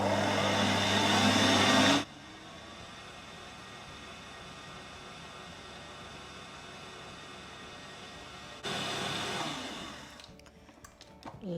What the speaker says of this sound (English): we're going to continue to whisk it for a couple of minutes